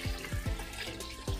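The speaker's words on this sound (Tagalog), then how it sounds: "Tubig." Water is poured into a pressure cooker already holding lemongrass, ginger and whole peppercorns, giving a short, close pouring and splashing sound with no talk.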